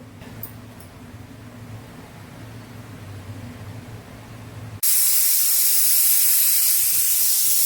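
A low rumbling hum gives way abruptly to a loud, steady rush of hissing steam from a pressure cooker whistle that continues without pause to the end.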